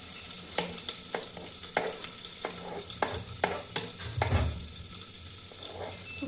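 Onion and garlic fry in very hot oil in a home kitchen, giving a steady sizzle broken by sharp clicks and scrapes of stirring, with no talking.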